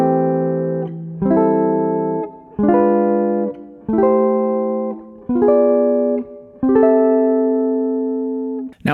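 Guitar block chords, diminished chords placed between C6 inversions, ring out as seven sustained strummed chords in an even stepwise sequence, clean, close and unaccompanied.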